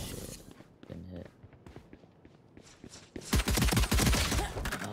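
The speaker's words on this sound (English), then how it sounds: "Ah, on me, shot me." Gunfire in Valorant, a sparse scatter of shots and footsteps giving way to a loud, dense burst of rapid shooting near the end, with a voice talking under it.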